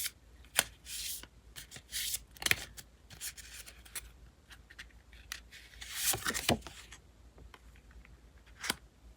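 Oracle cards are shuffled by hand during a tarot reading, a series of crisp riffling and slapping bursts, close and irregular, with no voices.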